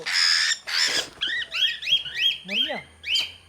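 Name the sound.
birds squawking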